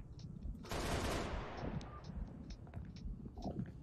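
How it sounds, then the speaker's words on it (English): Rapid turret fire from a Pelican dropship in Halo Reach, a dense burst of automatic shots that swells loud for about a second, then trails off into scattered distant gunfire and clatter. "at a certain part of the pelican, you can operate the turret"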